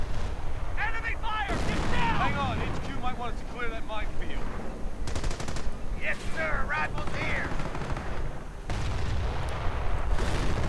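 A Flak 88 gun fires in a World War II real-time strategy game as repeated booming shots and battle noise, with a steady drone and a commentator talking over much of it.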